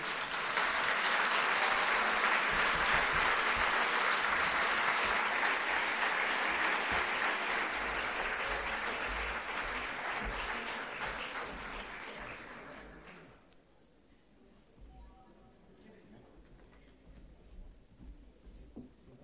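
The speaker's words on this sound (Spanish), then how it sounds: "pedimos un fuerte aplauso de bienvenida para él" Sustained applause from a large audience welcoming a speaker, dense and steady, then tapering off and fading to a quiet room near the end.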